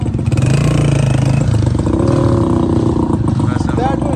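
Motorcycles ridden slowly along a dark rural path at night, a steady close engine drone with rough low rumble running throughout, while voices talk over it.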